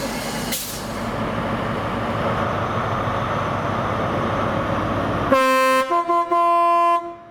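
GWR HST InterCity 125 high-speed train at Reading station, a loud rumbling engine drone building steadily, then a sharp two-tone horn blast in several bursts near the end.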